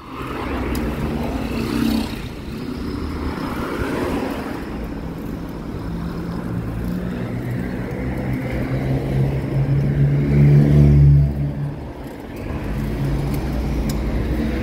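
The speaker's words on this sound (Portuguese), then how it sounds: "Hoje tem bastante carro aqui, hein?" Steady car traffic flows along Avenida Itaguaçu near the basilica gate in Aparecida at night: a continuous, fairly loud engine and tire rumble with a passing vehicle swelling louder around the middle, and no talk.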